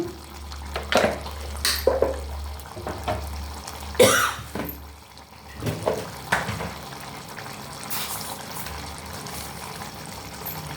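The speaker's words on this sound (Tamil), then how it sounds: "இப்போ கடுகு வறுத்துட்டு கடுகு வெடிச்சிருச்சு." Faint crackling and sizzling with a few sharper pops at intervals as mustard seeds splutter in hot coconut oil, steady low background hum, no talking.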